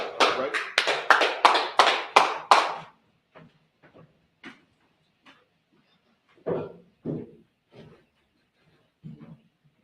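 A small group claps at a religious brotherhood class, a run of about a dozen sharp close claps followed by scattered, quieter claps and taps trailing off.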